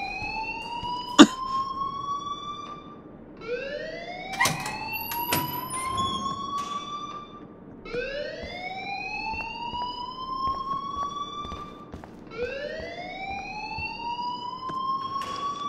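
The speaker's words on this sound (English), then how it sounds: "please turn off that alarm since that's your job" School alarm in the video game Life Is Strange: a loud, wailing siren that rises in pitch, repeating about four times in a steady cycle, with no talking.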